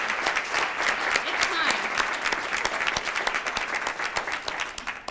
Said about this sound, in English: I want to have a moment of applause.